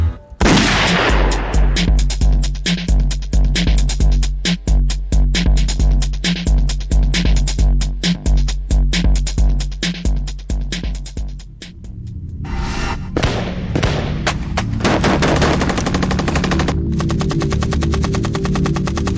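Dense automatic machine gun fire rattles in long rapid bursts, loud and close, then breaks into heavier scattered gunshots and booming reports over a continuous battle din, with no speech.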